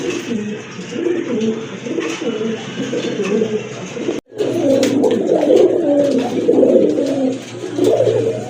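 Domestic pigeons, including a pink-beaked female, coo repeatedly in soft, rolling phrases close at hand, continuing almost without pause apart from one brief cut midway.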